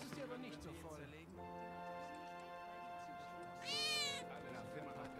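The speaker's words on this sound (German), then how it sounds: "Katze!" A cat in Final Fantasy 7 Remake meows, a long drawn-out wail followed by a shorter rising meow, heard close over game music while someone talks.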